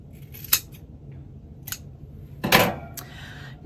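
Scissors snip warp yarn at a warping board in a few short, sharp cuts, one heavier crunching snip among lighter clicks, close and alone in a quiet room.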